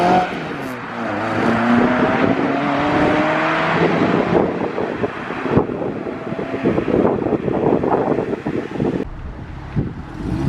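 A classic Ford Escort 1600 pulls away, its engine note rising and then fading into the distance amid heavy wind buffeting on the microphone; no one speaks.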